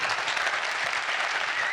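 A conference audience claps in dense, steady applause for actor Jim Belushi, loud and continuous throughout the short stretch.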